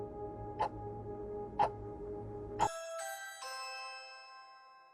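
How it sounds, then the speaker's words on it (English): A Ring doorbell notification chime sounds from a phone: three soft ticking taps followed by a bright, ringing two-note electronic chime that fades out, clear and close in a quiet room. "Natasha received a Ring doorbell notification on her phone"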